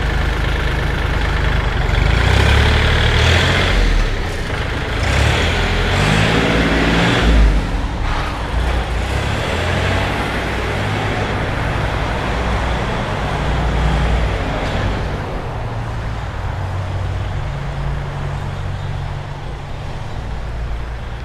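A 2020 Kubota L3218 used tractor runs with its engine idling steadily and loudly up close, a continuous low diesel rumble throughout with no talking.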